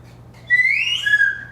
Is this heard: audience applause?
no